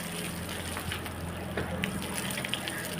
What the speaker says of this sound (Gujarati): ઠંડા ઠંડા પાણીએ નાવા